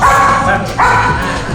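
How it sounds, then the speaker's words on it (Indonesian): A dog barks in short, loud, close yips during a counting trick, two quick vocal bursts a moment apart. "Jadi gonggong 1 dia 1, gonggong 2 berarti dia 2."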